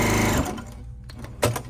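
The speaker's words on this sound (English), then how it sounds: "I'm going to sew" A Janome HD-9 sewing machine stitches fabric in one short loud burst that quickly stops, followed by faint mechanical clicks and handling noise.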